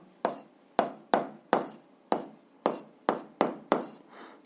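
A pen writing out an answer on paper, nine or ten sharp, close strokes in an uneven rhythm, each a brief scratchy tap fading quickly, with no speech.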